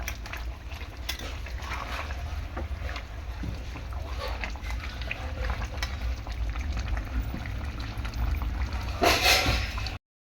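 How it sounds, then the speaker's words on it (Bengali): Yogurt chicken curry bubbling and simmering in a pan, a steady close-up burble and sputter with no talk over it. "টকবগিয়ে চিকেনটা ফুটছে"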